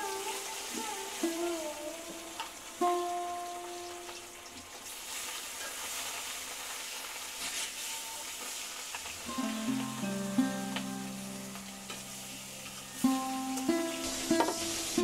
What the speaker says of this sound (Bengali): এই যে মাখিয়ে রাখা হয়ে গেছে 10 মিনিট, আমি এখন ভেজে নেব হালকা করে।